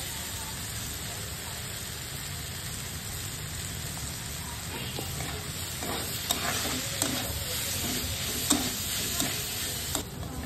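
Vegetables fry in a hot pan for chire pulao, with a steady sizzle throughout and stirring scrapes and clinks growing more frequent toward the end; no talking.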